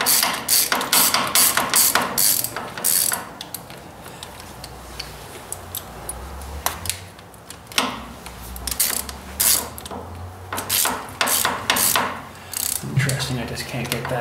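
Socket wrench ratcheting on the ignition of a Ford 800 tractor: close, loud bursts of quick clicks, pausing and resuming, with some metallic knocks between runs.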